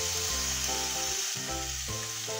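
Onion with cumin fries in a pan for chicken cooked in beer, a steady close sizzle heard beneath sustained musical tones.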